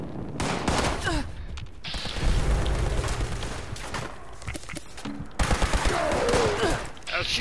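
Gunfire bursts in the Fallout 76 video game, loud rapid shots in clusters mixed with game effects and a voice talking over them.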